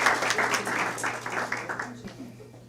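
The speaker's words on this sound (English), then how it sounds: "Please join me in giving them another round of applause for all four of them." Applause from a meeting audience, a dense patter of clapping that fades gradually over a few seconds, with voices mixed in beneath it.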